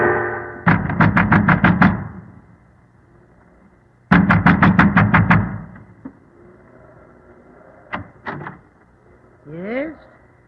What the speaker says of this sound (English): A man wrapped in an oilskin and wearing gigantic boots was pounding at the door of the